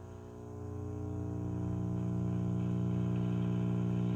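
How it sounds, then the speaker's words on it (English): A 1945 General Electric tube broadcast radio warms up with a steady, harmonic electrical hum and buzz that swells slightly in the first second and then holds even, close and continuous with no talk. "That buzzing you hear is all the electricity going through the fucking glass beams that you saw in there"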